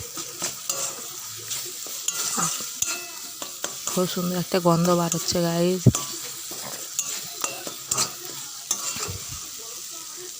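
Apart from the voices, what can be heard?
spices frying in a pan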